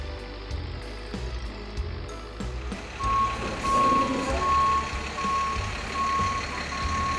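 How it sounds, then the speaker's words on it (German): A cartoon tractor's engine rumbles steadily as it reverses toward a train, while a high, evenly spaced reversing beep starts partway through and repeats at a regular pace. "Vorsichtig fährt der Traktor rückwärts an den Zug ran."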